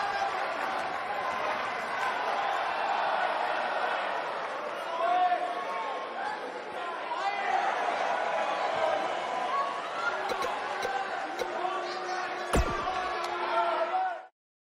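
Live arena crowd in the WWE 2K19 wrestling video game, a steady roar of cheering and chatter that holds at a constant level for the whole stretch, with a brief sharp slam-like impact near the end before it cuts off.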